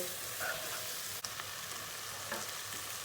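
Beans with spices sizzling in a pot as they are stirred once, a steady frying hiss with a brief scrape of the utensil partway through.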